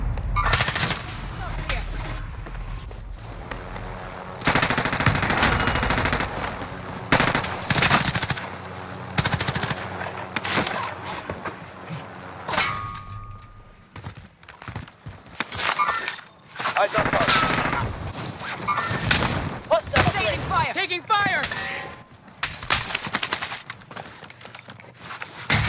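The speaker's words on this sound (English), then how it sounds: "I'm taking fire! Shots here." Automatic gunfire in Call of Duty: Modern Warfare comes in repeated loud bursts of rapid shots mixed with impacts and battle noise, while a voice talks over the action.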